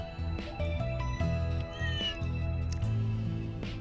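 Cats meowing in the video game Trails through Daybreak 2, several drawn-out meows and caterwauls following one another over a low background score, fairly quiet, with no one talking.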